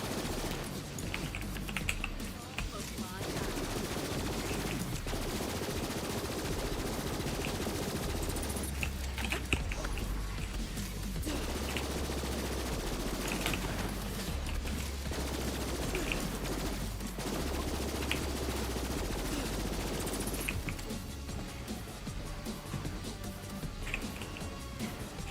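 Sustained automatic gunfire from the video game Borderlands 3, a dense, continuous rattle of rapid shots filling the whole stretch, loud and close with brief lulls between bursts and no talking.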